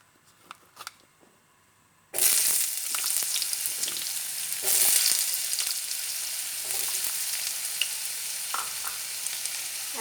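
Potato cubes hit hot oil in a pan for a Bengali red lentil curry, a sudden loud burst of sizzling after a quiet start, then a steady dense crackle with light stirring.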